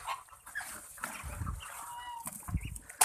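Muscovy ducks feeding greedily on a farm, with soft scattered dabbling and low grunting calls in quick irregular bursts close by.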